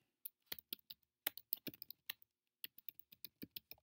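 Keys clatter on a computer keyboard in short, irregular bursts of crisp clicks, close and clear against a silent background.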